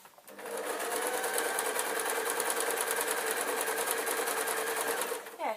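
Sewing machine running steadily for about five seconds while stitching rag rug strips, a continuous close, even whirring buzz that starts and stops cleanly.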